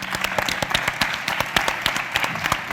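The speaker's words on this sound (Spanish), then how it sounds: "pues un aplauso, ¿no?" Scattered applause from a small audience at a literary talk, individual claps distinct and uneven in rhythm, moderately loud and close, with no talking over them.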